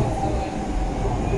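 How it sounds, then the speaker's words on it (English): A driverless Docklands Light Railway train in London runs with a steady low rumble and rail noise heard from inside the carriage, continuous and fairly loud. "DLR train"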